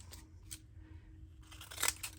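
Scallop-edged scissors snip through paper during scrapbook crafting, producing a few quiet, close crisp cuts with a sharper burst of snipping near the end.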